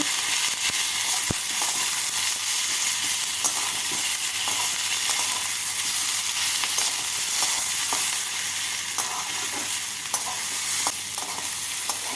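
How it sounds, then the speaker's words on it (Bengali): Ginger, chopped tomato and onion frying together in a pan, a loud, dense sizzle that holds steady for the whole stretch, with faint stirring scrapes and small pops over it. "দেবো দুই ইঞ্চি আদা একটা মিডিয়াম সাইজের কুচনো টমেটো পেঁয়াজের সাথে ভেজে নেব"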